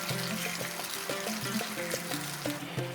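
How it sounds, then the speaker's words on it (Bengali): Water pours into gravy in a cooking pan as a soft, continuous gurgling trickle with bubbling tones, close by and fairly quiet. "এই পর্যন্ত কষিয়ে নেওয়ার পরে গ্রেভির জন্য দিয়ে দেব জল।"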